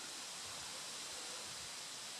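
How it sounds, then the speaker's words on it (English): Soft, steady breeze hissing through tree foliage at Central Mine in Michigan's Upper Peninsula, a faint continuous rustle with no distinct gusts and no voices. "You can hear that breeze."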